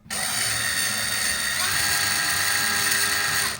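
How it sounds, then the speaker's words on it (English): An electric drill whirs continuously and loudly at close range, its pitch shifting slightly as it drives a self-tapping screw into extruded aluminium. "If I reverse the drill"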